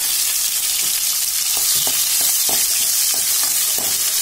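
Green chillies, fox nuts, cashews and raisins roast in a hot pan with a loud constant sizzle, while repeated spatula scrapes and stirs tap through it at an uneven rhythm.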